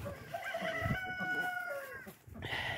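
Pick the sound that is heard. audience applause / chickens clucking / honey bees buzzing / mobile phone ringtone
chickens clucking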